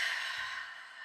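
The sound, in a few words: exhaling breath during seated exercise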